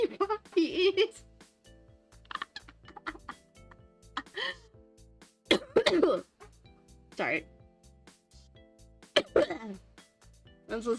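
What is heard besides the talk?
cough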